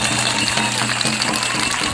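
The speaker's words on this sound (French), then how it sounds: "applaudissez-les fort, fort, fort, qu'on puisse leur envoyer notre énergie positive" An audience at a live public event in Annecy claps loudly and continuously, a dense wash of applause mixed with crowd murmur and some voices.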